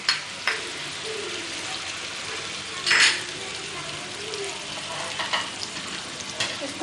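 Light pink onions with ginger garlic paste fry in a pot for beef yakhni pulao, a constant sizzle broken by scraping stirs and a few clanks of a spoon against the pan.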